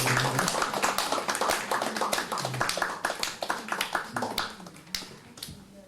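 Applause at a church service honoring elderly members, quick claps running unevenly for several seconds from a small gathering, loud at first and thinning out toward the end.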